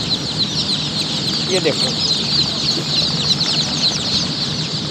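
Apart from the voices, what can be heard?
chicks and chickens clucking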